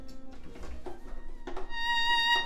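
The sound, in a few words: Embertone Friedlander violin sustain patch, virtual instrument demo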